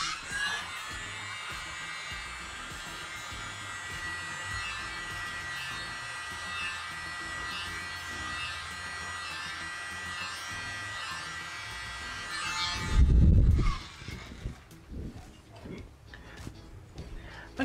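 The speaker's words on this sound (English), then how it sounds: "I'm actually going to try something with the mini blower." A small handheld mini blower used on resin coaster pours runs with a steady, even electric whir for about 13 seconds, then cuts off, leaving a brief low thump and faint scattered handling sounds.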